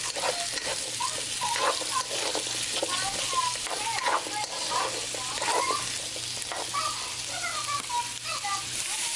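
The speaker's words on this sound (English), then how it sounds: "peppers and onions first. Move all that around." Peppers and onions frying in a pot for Spanish soup, a steady soft sizzle with spoon scraping and stirring noises throughout.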